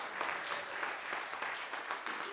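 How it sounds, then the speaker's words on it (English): A school talent show audience claps together, a continuous even patter of many hands heard from some distance, sustained for a couple of seconds with no voices over it. "Give him a round of applause here."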